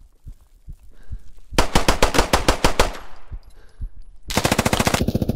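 Automatic gunfire in the military shooter Squad, with a few scattered shots, then a loud rapid burst with a ringing tail, then another fast sustained burst near the end.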